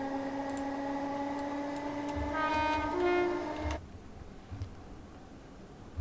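Class 320 electric train on the North Clyde Line in Train Simulator Classic, a steady low motor whine with a rising high tone that cuts off abruptly, leaving faint rumble and soft clunks.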